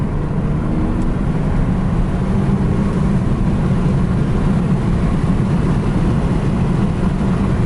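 A 2008 BMW 328xi E90 with a new air filter pulls hard under acceleration, its engine giving a loud, steady drone with low rumble and road roar heard from inside the car.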